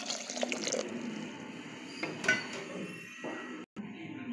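About 1.5 cups of water is poured into a pot holding brinjal and green chillies, making a soft, fairly faint splashing that comes and goes, with a few small clinks and a brief pause near the end.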